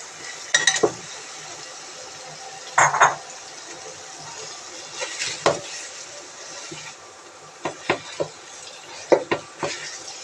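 Taro is stirred in a pan of frying spices for a hilsa and taro lentil dish, with scattered scraping and clattering spoon strokes over a low sizzle, loud bursts separated by quieter stretches.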